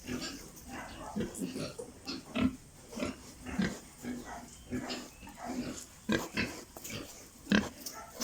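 Fattener pigs in individual pig pens grunt and oink repeatedly in short irregular bursts, fairly near but soft, with farm background noise.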